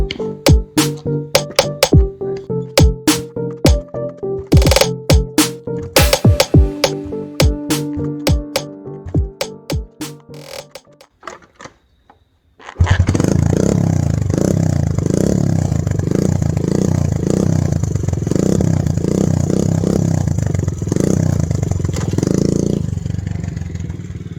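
A Honda Z50 minibike engine cranks with a run of sharp, clattering kick-start strokes, then catches and runs with a loud, steady, pulsing idle and rising revs.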